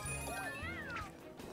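A cat meows in Super Mario 3D World, a short rising and falling cry over busy game music and effects.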